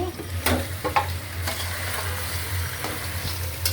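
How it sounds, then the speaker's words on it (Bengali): A pot of milk cooking on a stove is stirred, with steady scraping strokes and a low bubbling hiss running throughout, close and fairly loud, with no talking. "এটা একটু নাড়াচাড়া করে দিলাম"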